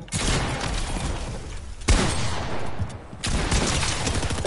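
Gunfire in Fortnite, dense bursts of rapid shots that stop abruptly twice and resume, loud and close throughout.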